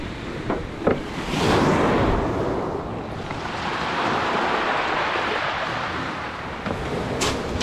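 Sea surf breaks and washes on the shore at Massandra beach in Yalta, Crimea, a broad, rolling roar that swells and recedes under gusty wind buffeting the microphone.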